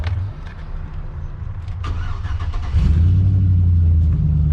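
The engine of a 2005 Chevrolet Silverado at a junk car auction revs through its exhaust, idling and then rising into a loud, deep, sustained rumble up close, with no talking.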